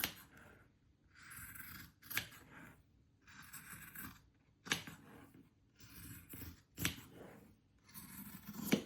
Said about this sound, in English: take your scissors and cut along that line